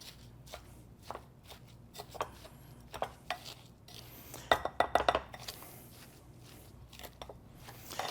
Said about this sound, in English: I'm going to use a wooden spoon. So you just want to get that totally incorporated.